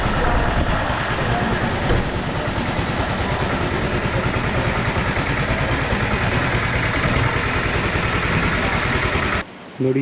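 Chennai Central Express passenger train running, heard from inside the coach as a loud steady rumble with a rapid rhythmic rattle, continuing almost to the end before a brief dip.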